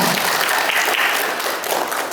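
An audience at a government technical training workshop breaks into steady, close, dense applause that holds at an even level for a couple of seconds.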